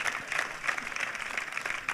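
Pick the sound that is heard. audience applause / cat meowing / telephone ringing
audience applause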